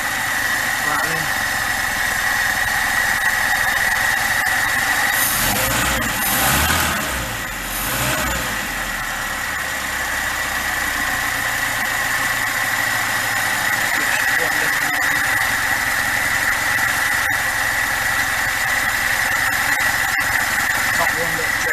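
A Lada 2102 car engine idles steadily after a carburettor rebuild, a constant close drone with a brief revving swell early on and people talking over it.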